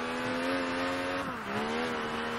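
A race car engine in Project Gotham Racing 3, a loud, steady, buzzing high-revving drone with a brief dip in pitch as it shifts, then climbing again, with no talk.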